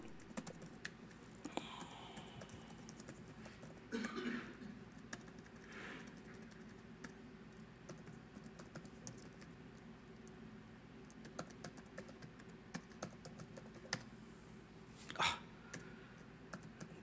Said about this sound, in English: Pardon me while I use the itty-bitty keyboard.